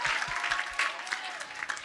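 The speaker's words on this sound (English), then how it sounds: "let's give a round of applause for our panelists" A short burst of audience clapping for a women-in-entertainment panel at a livestreamed event, moderately quiet and scattered, with individual claps audible within the crowd.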